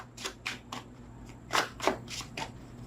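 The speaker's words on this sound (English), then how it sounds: "3 outcome cards off the top of the deck after this shuffle." A deck of tarot cards is shuffled by hand in several quick riffling bursts, close and crisp, with short pauses between.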